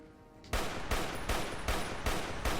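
Old Reliable, a battle rifle in Fallout New Vegas, fires five loud, evenly spaced shots at a steady semi-automatic rhythm, each with a booming report and a short ringing tail.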